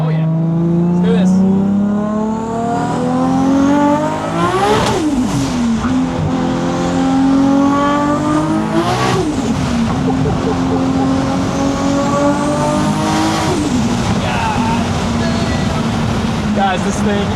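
A 1600-horsepower Toyota Supra accelerating flat out, its engine screaming up through several gears with sharp pops at each shift, loud and close from inside the car, with people's voices mixed in.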